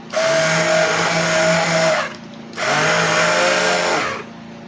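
An electric grinder blending hot ingredients for homemade cheese cream runs loud and close in two steady whirring bursts, separated by a short pause.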